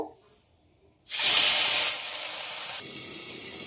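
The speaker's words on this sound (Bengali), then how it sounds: "এইভাবেই সব মাছগুলো ভেজে নেব" Amudi fish hit hot oil on a high flame with a sudden loud hiss, which settles into a steady, strong sizzle of frying.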